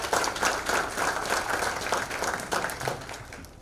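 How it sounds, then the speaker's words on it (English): An audience applauds committee members at an athletic hall of fame recognition ceremony, a steady mass of clapping from many hands that holds for several seconds before starting to thin out. "Let's give them a round of applause."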